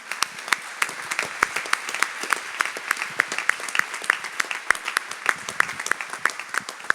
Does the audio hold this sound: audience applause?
yes